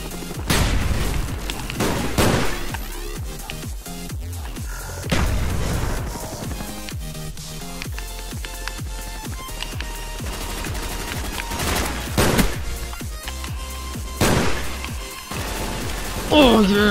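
Dense gunfire from Call of Duty: Black Ops online multiplayer, repeated loud shots and bursts with occasional booms throughout, mixed with a player talking.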